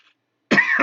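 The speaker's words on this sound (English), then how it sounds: "That was a real cough, by the way." A single close, sharp human cough bursts out after a second of near silence, harsh and throaty with a short rasping tail.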